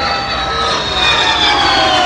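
Canadair Challenger jet making a low pass at about 300 feet and 300 mph: a loud, continuous broadband jet roar holds steady for the whole stretch, with no talking over it.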